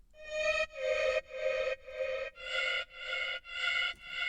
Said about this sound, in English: So I'm going to do some volume ducking to it, and that'll sound like this